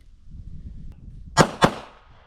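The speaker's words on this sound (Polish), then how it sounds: "Oddaję dwa krótkie strzały na języku, króciutko na języku spustowym" Two sharp pistol shots ring out at a shooting range in quick succession, loud and close, each with a brief echoing tail, after a quiet stretch of low background noise.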